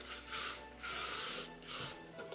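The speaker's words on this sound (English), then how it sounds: "I'm gonna take some of the L'Oreal Elnett Satin hairspray, and I'm just gonna spray this" Three bursts of L'Oreal Elnett Satin hairspray from an aerosol can onto hair, each a soft hiss lasting about half a second, close and fairly quiet.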